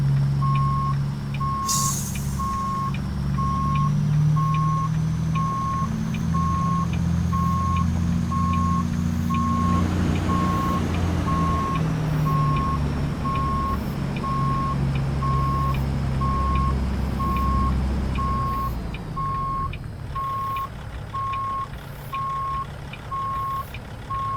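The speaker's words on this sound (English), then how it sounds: "Forgot to rip out that beeper." In American Truck Simulator, a truck's reversing beeper sounds in a steady, evenly spaced series of tones over a low, rumbling engine idle, with a brief air hiss early on.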